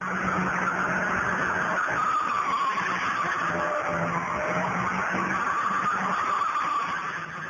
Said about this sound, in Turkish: Kontrolü kaybeden bir sürücü aracıyla izleyicilerin içine daldı.